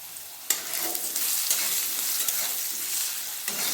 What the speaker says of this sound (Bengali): আলু অন্য একটু ভাজা ভাজা করে নেব